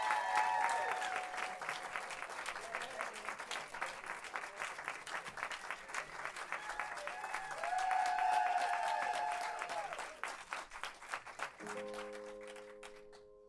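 A concert crowd applauds a band at a private radio-station show, with steady dense clapping and cheering that swells, then thins as a guitar begins to ring out near the end.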